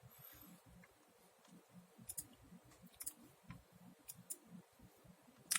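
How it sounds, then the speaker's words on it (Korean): A computer mouse gives a few faint, sharp clicks spaced a second or so apart, the last a quick double click, over a quiet low background. "더블 클릭"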